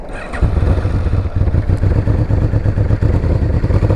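A Yamaha VMAX motorcycle engine roars steadily and loudly while riding, a dense continuous drone with wind rush at speed and no break in the sound.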